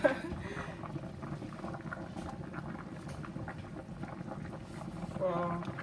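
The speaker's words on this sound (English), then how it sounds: "So this is still boiling." A pot of yam and gizzard stew with plantains simmers at a steady low bubbling boil, a soft continuous churn heard close up without talk.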